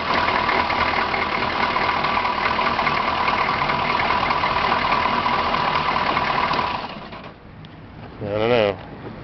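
A 6.2 diesel engine in a Chevrolet Blazer idles with a steady, close mechanical drone, then cuts out near the seven-second mark, and a brief voice follows.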